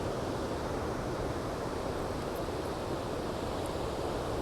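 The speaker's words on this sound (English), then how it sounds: "Hopefully you can hear the sounds of the ocean waves." Ocean waves and surf rolling in along the San Francisco shoreline, a steady dense wash of breaking water with some wind, continuous and fairly loud with no talking.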